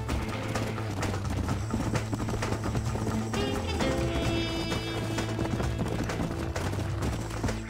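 Galloping horse hooves in the video game Red Dead Redemption pound in a quick, even clatter up close, layered over sustained musical tones and game ambience, with a brief snort or whinny.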